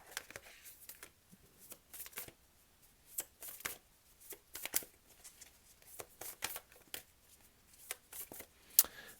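Tarot cards are shuffled by hand in irregular bursts of crisp riffling and slapping, close and fairly faint, with short quiet gaps between.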